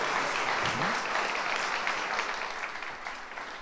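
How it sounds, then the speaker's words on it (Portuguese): Audience applause at an evening talk in a library, a dense burst of clapping that gradually thins and fades over a few seconds. "nessa noite, a nossa salva de palmas"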